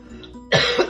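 A person coughs at close range, two quick harsh coughs in the second half of a one-second moment after near silence.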